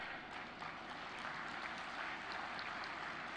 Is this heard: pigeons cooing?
no